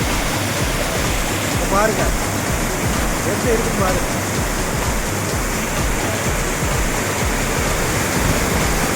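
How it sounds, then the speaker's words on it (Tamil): Pond water pours through a sluice gate in a steady, dense rush like a small waterfall, loud and continuous throughout, while someone speaks briefly over it. "மதகு வழியாக தண்ணி குளம் ரெம்பி எவ்வளோ ஸ்பீடாக வந்துட்டு இருக்குன்னு பாருங்க. அருவி மாதிரி விழுது."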